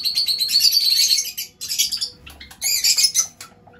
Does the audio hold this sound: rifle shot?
no